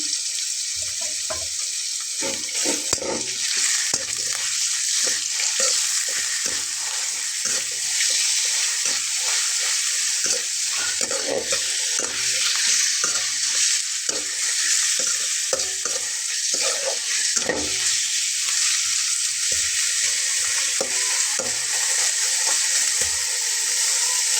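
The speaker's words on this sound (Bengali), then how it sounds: "তো পেঁয়াজটা একটু নাড়াচাড়া করার পরেই আমি এখানে চিকেনটা দিয়ে দেব।" Chopped onion and pieces of boneless chicken fry in a pan, a steady close sizzle that runs the whole time under repeated scraping and knocking from stirring.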